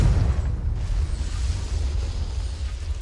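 A Confringo spell explosion from Hogwarts Legacy booms loud and close, a heavy low-end blast that rumbles on and slowly fades over a few seconds.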